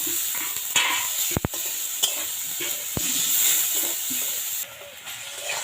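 Maggi noodles fry and get stirred in a pan, a constant close sizzle broken by sharp scrapes and clicks of the spoon against the metal.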